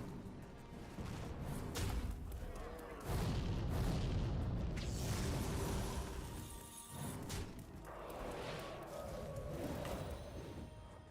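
Game explosions in Hearthstone Mercenaries, several deep booming blasts with crashing bursts spread over the stretch, loud and close with brief quieter gaps between them.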